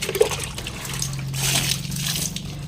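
Water trickling and splashing as it is poured onto a potted plant's soil, a soft steady pour running close by for a few seconds with no talk.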